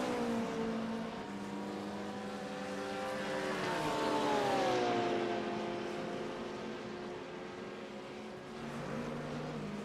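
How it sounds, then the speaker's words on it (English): Several race car engines droning together in a racing video game at Monza on a wet track, a continuous loud pack with pitches rising and falling as the cars shift and pass. "Gaggle of cars trying to find dry lines here at the Autódromo."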